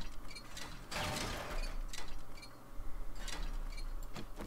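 Metal objects are wrenched apart in the game 7 Days to Die, giving close ratcheting, clanking mechanical clicks in irregular bursts over a low hum.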